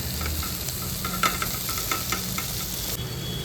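Onion, tomato and potato fry in a pan with a steady, close sizzle, broken up by light scraping and tapping as a utensil stirs them.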